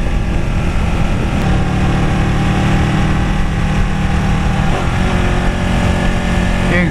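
A Ducati Panigale 899 motorcycle engine drones steadily while riding, a loud, close rumble with shifting pitch and wind noise throughout.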